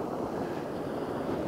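Sandy water waves splashing onto the shore, a steady rushing wash of surf mixed with wind noise on the microphone, continuous and moderately loud with no voices.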